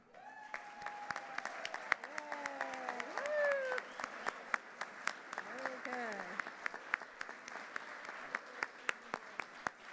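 An audience at a 2019 community leaders' celebration gives sponsors a round of applause: steady, dense clapping across the room, fairly close, with the spoken introduction trailing off over the start.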